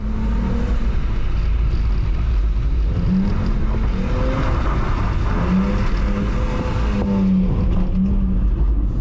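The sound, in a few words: BMW E46 320i drift car engine revving in rain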